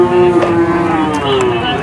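Cattle low with a drawn-out, steady moo and then a shorter second call at the Purwantoro cattle market, where young bulls are sold for fattening; the calls sit close and loud over a murmur of market noise.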